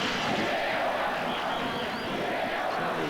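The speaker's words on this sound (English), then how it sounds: "Certainly the crowd here at the Parramatta Stadium." A football crowd at Parramatta Stadium during a match between Australia and IFK Göteborg keeps up a dense, continuous roar of cheering, loud and steady throughout.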